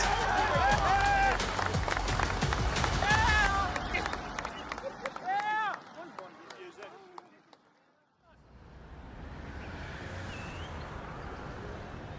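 Home crowd at a Manukau Rovers rugby match roars and cheers, loud and sustained for a few seconds with voices over it, then fades and drops away before a quieter stretch of ambient noise.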